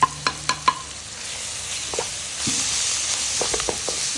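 Mushroom fried rice frying in a pan as garam masala and chilli powder go in, with a few sharp clinks of a spoon on the pan at the start and then a continuous sizzle with more scraping taps near the end.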